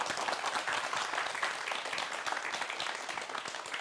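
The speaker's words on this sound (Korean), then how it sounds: "큰 박수로 환영해 주세요." A studio audience claps steadily and loudly for a few seconds, welcoming a hanji paper sculpture artist onto a Korean TV talk program, with no voices over the dense applause.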